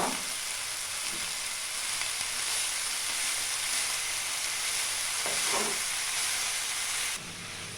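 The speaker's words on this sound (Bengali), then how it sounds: "এরপর এর মধ্যে আমি শাকটা দিয়ে দিচ্ছি ও ভালো করে মিশিয়ে নিচ্ছি।" Spinach sizzles and hisses in a hot pan for Bengali shukto, a steady loud frying crackle with a couple of soft stirring scrapes midway.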